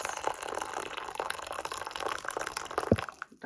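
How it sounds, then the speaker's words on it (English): Freshly boiled water is poured from a kettle into a coffee cup, a soft continuous trickle with faint splashes, ending with a brief clink and a short fade. "This is my boiled water. I'm going to add a bit into this."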